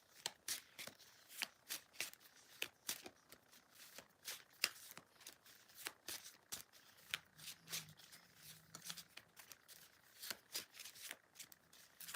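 Soft, close handling of a deck of cards: many quick crisp flicks and riffles in an uneven rhythm, quiet throughout, with a faint low hum briefly underneath.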